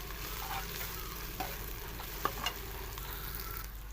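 Chopped onion fries with coriander and ground garlic and ginger in a pan, giving a steady close sizzle with a few faint clicks of stirring and no talking.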